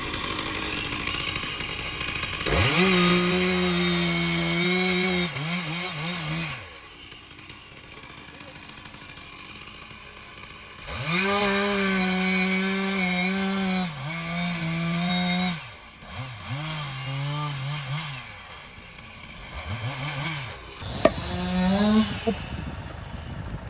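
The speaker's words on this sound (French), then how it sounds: "on va scier tout ça, on va charger la remorque" A chainsaw cuts firewood logs for an affouage wood allotment, loud and close, in three long revving cuts with the engine dropping to idle between them, then a short final burst.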